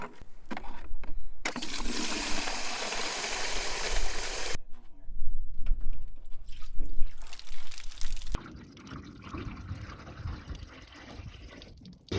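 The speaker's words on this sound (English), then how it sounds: "Right now I'm just getting some water so we can test to make sure the gutter is at a good angle." Water poured into a homemade gutter irrigation system splashes and trickles in bursts, loudest in a sustained rushing pour midway, with quieter drips and handling noises between.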